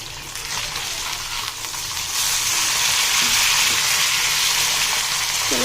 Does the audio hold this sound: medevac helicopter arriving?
no